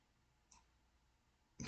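A computer mouse gives a couple of short clicks during photo editing in Darktable: a faint tick, then a sharper, louder click after a brief pause, both close and isolated.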